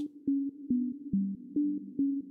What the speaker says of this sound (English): If I select only the first harmonic like this, this is just a root note or fundamental tone,